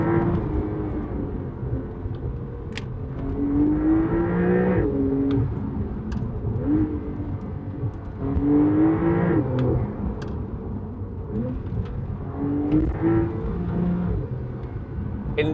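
Porsche 911 Targa 4S Heritage Edition with an automatic gearbox, engine revving repeatedly while driving, several rising pulls that swell and drop back, heard from the cabin without talk.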